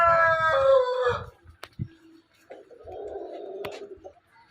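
Chickens are kept in a box on a rooftop. A rooster crows loudly and nearby, followed by a short pause, a sharp cluck and a second, lower squawking call.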